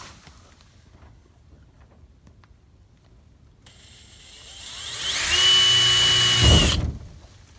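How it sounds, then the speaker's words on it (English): A Dremel rotary tool fitted with a small compass bit cuts a 4-inch hole, starting with a rising high-pitched whine that swells into a loud, sustained grinding for about three seconds and then stops abruptly, with quiet room tone before it. "we're going to use a little compass bit on the Dremel. On the Dremel, yeah, to make a 4-inch hole"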